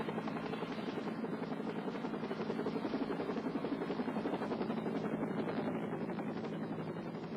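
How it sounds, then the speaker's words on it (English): A Life Flight medical helicopter from Portland arrives with a steady, fairly faint rotor thump, its chopping pulse continuing evenly throughout with no speech. "The Life Flight helicopter arrived from Portland in less than 15 minutes."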